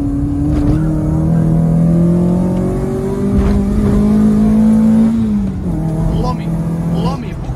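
A Renault Megane with the F7R 2.0 16V engine and five-speed manual gearbox pulls hard from inside the cabin, its loud engine note climbing steadily through a gear before a shift drops the pitch and it climbs again.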